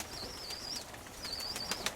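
A speckled homing pigeon flies in to land, its wings giving a quick, close flurry of flaps and sharp claps with a thin whistling tone. The sound stays fairly quiet throughout.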